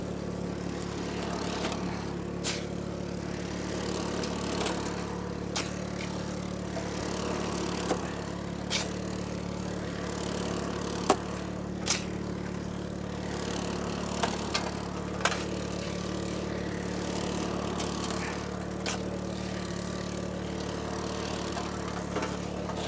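Small motor on a dry washer working gold-bearing dirt in the Arizona desert, running at a steady low drone, with sharp clicks and knocks dropping in at intervals, and no voices.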